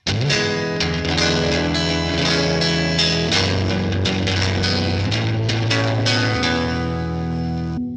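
Electric guitar tone with slapback echo and reverb, a loud, continuous strummed chord passage ringing with repeated echoes and a wash of reverb, no voices.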